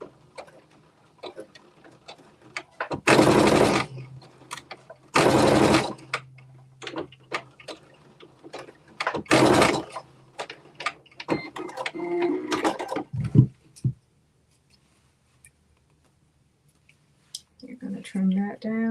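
A sewing machine running a straight seam 5/8 inch from the fabric edge, with a back stitch, heard as a few loud, close whirring bursts of a second or two each, set between quiet gaps, small clicks and a voice.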